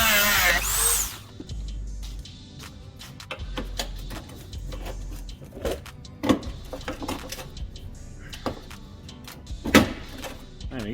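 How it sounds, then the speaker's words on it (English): A Dremel rotary tool cuts through a bolt holding the bumper of a Fiat Punto GT Turbo under restoration, giving intermittent bursts of whirring and grinding with scattered clicks and knocks between cuts, fairly close. "So out with the Dremel, I'm going to cut that bolt out."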